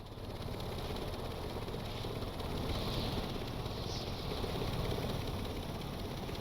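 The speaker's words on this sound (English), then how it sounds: "you can also hear the engines are starting to scream" Engines revving and screaming in the sandbox video game Stormworks as the propellers are pushed full forward for more RPM, a steady loud droning roar that holds throughout with no voices over it.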